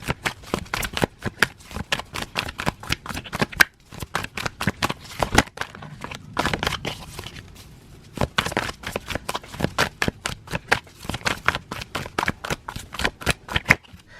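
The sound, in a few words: tarot cards being shuffled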